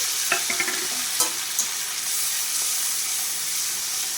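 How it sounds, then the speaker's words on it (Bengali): Spice paste of melon seeds, poppy seeds, cumin, ginger, cashews and raisins sizzles in a pan with prawns, a constant frying hiss broken by scraping, clinking stirs of a spoon. "মশলাটা দিয়ে আমি ভালো করে সব কিছুর সাথে মশলাটা কষিয়ে নেবো"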